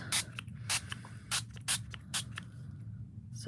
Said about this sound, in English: I'm literally just having a bit of a spray a bit more there